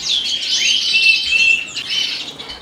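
Native finches in a birdroom chirp and twitter in a dense, continuous flurry of high, bright calls, close and loud, with no talking.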